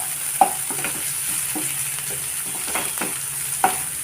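Finely chopped medium onions fry in coconut oil toward golden brown for a prawn dry fry; a bright, steady hiss with intermittent scraping stirs and a few crisp spoon knocks against the pan.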